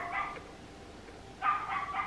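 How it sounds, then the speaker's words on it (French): The new neighbours' dogs bark in two bursts of several sharp yips and barks, one short and one longer, heard from a moderate distance through a quiet room with no one talking. "c'est non-stop depuis ce matin, les voisins, les chiens des nouveaux voisins"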